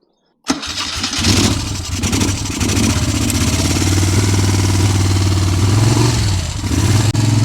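A Moto Guzzi Le Mans MK1 motorcycle cranks and fires after a silent moment, then settles into a loud, close, steady idle with a throbbing low rumble and slight throttle changes.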